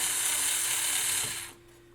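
A ratchet screwdriver backs screws out of the front of a Pioneer SX-950 stereo receiver, giving a steady, close, rapid clicking that runs about a second and a half before stopping and fading to quiet.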